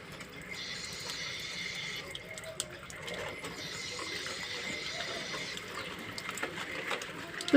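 Water pours and splashes steadily during a dog's bath, with faint voices in the background.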